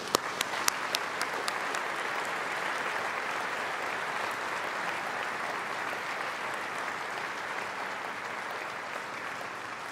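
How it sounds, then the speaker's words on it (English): A graduation ceremony audience gives a long round of applause in thanks to university staff, opening with a few sharp individual claps before swelling into a dense, sustained roar of many hands from a large hall. "Please join me in thanking them with a well-deserved round of applause"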